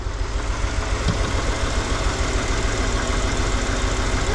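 A $500 auction van's engine runs steadily with a slight stumble, a close, constant low rumble with uneven pulsing beats and no talking.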